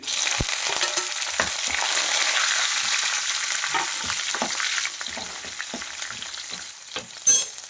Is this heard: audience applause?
no